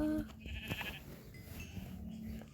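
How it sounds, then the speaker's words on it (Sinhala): A sheep bleats in Minecraft during survival gameplay, a short wavering blocky bleat near the start followed by a second fainter bleat later, over a low game background. "බැටළුවා."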